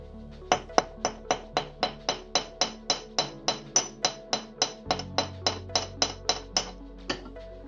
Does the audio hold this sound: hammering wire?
yes